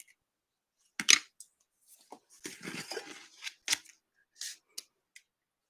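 Scissors snipping through a magazine picture glued onto cardstock, a handful of quiet, close crisp cuts and paper rustles spaced apart with silent gaps between them.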